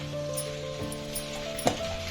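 Tomato gojju mixture frying in a pan over a high flame gives a steady, close sizzle throughout, with one brief clink of stirring near the end.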